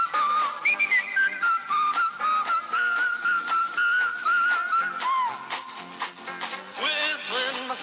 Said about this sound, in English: Whistling my favorite song